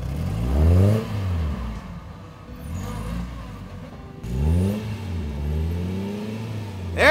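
An off-road motorhome's engine revving as it crawls in first gear over rough terrain, rising in two strong surges with a steady idle-like rumble between them, close and fairly loud.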